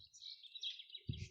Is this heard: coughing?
no